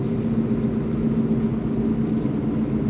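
Steady low engine hum and road rumble from inside a car on the way to work, an even drone with a faint tonal whine, no talking.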